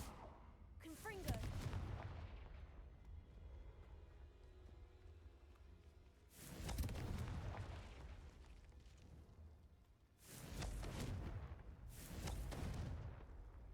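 A Confringo fire spell explodes in Hogwarts Legacy, giving a few deep booming blasts spaced seconds apart, each with a broad rumbling burst that fades away, set against quieter background sound.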